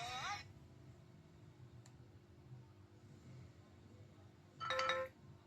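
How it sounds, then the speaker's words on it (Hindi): A ringtone plays from a Realme Narzo 50A phone after its no-sound fault is fixed. A short burst of bright chiming tones comes at the start and again near the end, over a quiet room with faint background noise. "मैं आपको एक बार इसका एक कोई भी रिंगटोन बजा के दिखा देता हूँ।"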